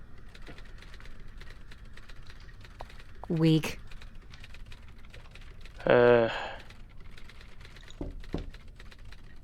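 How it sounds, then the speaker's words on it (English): Faint, rapid keyboard typing carries on steadily from behind a locked door in a 1954 Alcatraz-set video game, a muffled patter under two short bursts of speech. "I hear constant typing."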